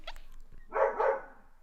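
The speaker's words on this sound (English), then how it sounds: "I'm sorry about the dog in the background." A dog barks in the background, a couple of short yips followed by a louder, rough bark, moderately distant and alone.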